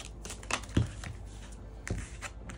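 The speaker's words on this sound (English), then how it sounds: "I'm going to keep shuffling." Tarot cards shuffle softly and close by, with quiet riffling and a few sharper flicks and taps as cards slip out of the deck.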